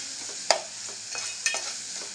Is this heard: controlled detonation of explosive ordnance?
no